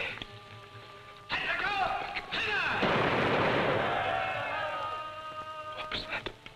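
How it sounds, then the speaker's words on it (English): A firing squad execution: a dense, loud burst of gunfire rolling on for several seconds, with sharp cracks at the start and end and no talk over it. "Firing squad. It's execution day."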